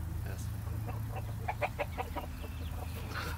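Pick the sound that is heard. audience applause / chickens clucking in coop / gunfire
chickens clucking in coop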